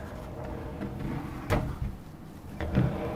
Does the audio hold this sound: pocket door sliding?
yes